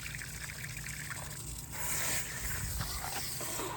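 Water runs from a hose around a motorcycle during a roadside repair, a steady close hiss and trickle that grows louder and splashier partway through.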